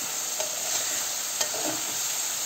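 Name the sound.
stirring desi chicken curry in a pan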